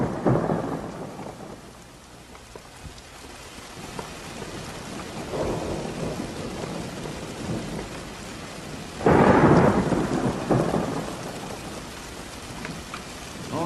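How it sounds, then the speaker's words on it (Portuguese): Heavy rain pours steadily while thunder rumbles several times, with one loud, close crack near the end, and no voices. "Nossa, quanta chuva, hein?"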